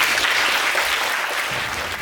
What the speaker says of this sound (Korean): 열화 같은 박수로 이 자리에 모시도록 하겠습니다.